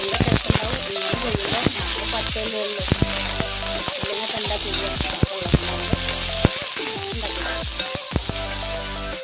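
Chopped onions frying in a pan while being stirred, a dense continuous sizzle with frequent scraping and clinking of the spoon against the pan, close and loud throughout.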